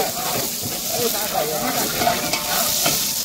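Tomatoes go into a pot of goat-head dum biryani masala, and it sizzles and hisses continuously while being stirred, with a voice heard faintly in the background.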